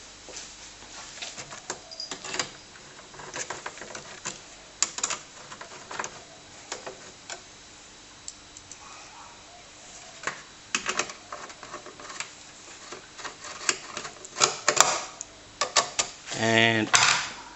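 Small screws being driven into a Grafyx hi-res graphics board inside a TRS-80 Model 4P computer, heard as scattered close clicks and taps, with a brief louder burst of ratcheting near the end.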